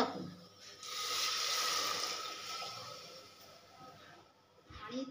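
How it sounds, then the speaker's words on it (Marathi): Water poured into a pan of methi chakolya being cooked, a soft steady splashing rush that swells and fades over a few seconds, fairly faint and close with kitchen background. "यात आपण आता पाणी टाकू."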